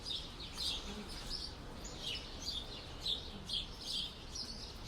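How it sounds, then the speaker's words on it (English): Birds chirping outdoors in the morning, repeated small tweets and calls at a distance, faint over a steady background hiss. "Love listening to the birds."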